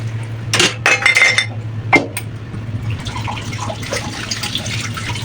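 Dishes and glasses clink and clatter in a home kitchen sink, with scattered sharp knocks over the first two seconds, then running tap water splashing steadily underneath.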